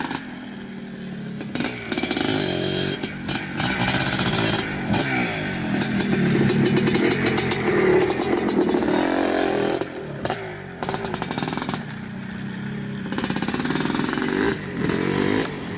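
A 1982 Maico MC250 two-stroke motorcycle engine runs loud and close, idling roughly and blipping into raspy revs again and again, with a clattering, buzzy tone throughout.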